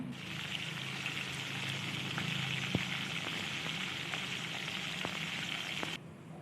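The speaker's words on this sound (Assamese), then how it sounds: "এতিয়া গেছত এখন মই কেৰাহী পাতি ইয়াতে মাছকেইটা অলপ ফ্ৰাই কৰি ল'ম।" Fish fries in oil in a wok, producing a steady crackling sizzle with scattered pops, heard close and moderately loud before it drops off abruptly near the end, with no talking.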